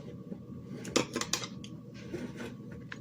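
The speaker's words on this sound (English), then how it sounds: "now I'm just going to trim this" Scissors trim the fabric lining of a baseball cap with a few close, crisp snips clustered together, followed by light rustling of the cloth.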